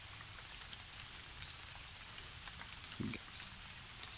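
Light rain patters steadily and faintly outdoors in a rural province during copra work, a soft continuous hiss with scattered drops and one brief louder knock near the end.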